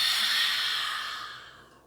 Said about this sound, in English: And exhale out your mouth, let it go.